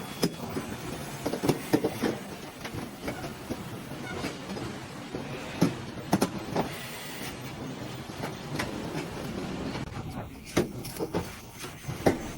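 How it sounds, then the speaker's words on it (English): Automated machines torque bolts on a Volkswagen Jetta assembly line, giving irregular mechanical clanks, whirs and sharp knocks over a busy factory hum. "Machines then step in to torque all these bolts automatically, using a crisscross pattern for accuracy."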